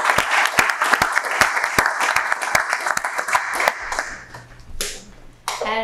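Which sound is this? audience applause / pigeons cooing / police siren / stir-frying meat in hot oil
audience applause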